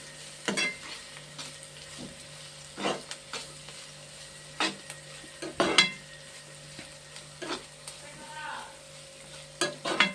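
Ripe green chillies fry gently in a pan while a utensil stirs them, giving soft scraping strokes at irregular intervals over a faint, quiet sizzle.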